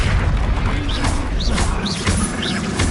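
Spell blasts from the Hogwarts Legacy video game, such as Confringo and Incendio, land as a run of heavy booms and crashes over a constant low rumble. Whistling magical zips come between the impacts.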